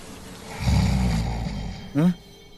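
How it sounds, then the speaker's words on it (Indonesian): A low, rumbling snore-like drone, followed by a brief rising voiced sound. "Kayak ada suara orang ngorok."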